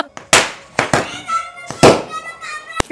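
Diwali firecrackers set off outdoors, several sharp loud bangs at irregular intervals, one close crack near the end, with voices and laughter around them.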